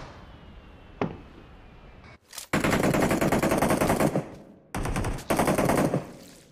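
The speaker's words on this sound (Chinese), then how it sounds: "我又打中他一 枪" Rapid automatic gunfire in a shooting video game, two loud sustained bursts of fast rattling shots after a single sharp crack, close and prominent with no talk.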